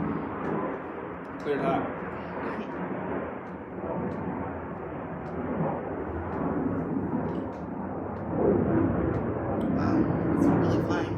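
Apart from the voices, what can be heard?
airplane flying overhead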